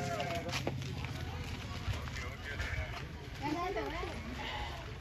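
Aggressive billy goat in a village bleats among other livestock over a steady noisy outdoor background, with overlapping voices and shuffling movement.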